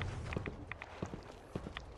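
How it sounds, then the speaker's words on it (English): Footsteps in the Fallout 4 Nuka World game, a string of soft regular thuds about every quarter second, moderately close, alone over a steady ambient hum. "I can hear footsteps."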